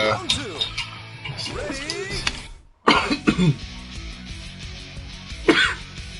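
A person coughs and clears their throat several times, close to the mic, with some talking mixed in between.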